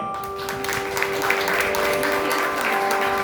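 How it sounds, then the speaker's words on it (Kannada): Steady crowd applause at a music program in the Kanyaka Parameshwari temple, Srinagar, with dense clapping throughout, fairly loud and sustained without a break. "ದಯವಿಟ್ಟು ಎಲ್ಲರೂ ಅವ್ರಿಗೊಂದು ಜೋರ ಚಪ್ಪಾಳೆ"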